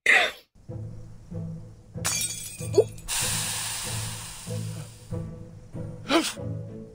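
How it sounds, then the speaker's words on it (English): A potion bottle smashes on the floor in the video game Reverse: 1999, a bright glassy shatter followed by a long hissing spray, over a soft looping low musical backing. "The potion Sotheby's smashed on the floor has taken effect."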